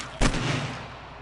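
A single loud gunshot in the zombie survival game 7 Days to Die on PS4, a sharp close blast with a short fading tail and no other sound.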